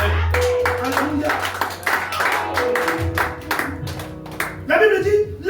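A church congregation claps in praise of the Lord, a burst of hand claps that rings out loudly and then fades, heard over a preacher's voice and other people speaking.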